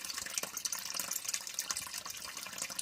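Water pours steadily into a sump pit toward a foundation drain, a constant close splashing trickle with no breaks.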